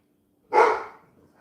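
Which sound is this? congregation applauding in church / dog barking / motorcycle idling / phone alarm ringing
dog barking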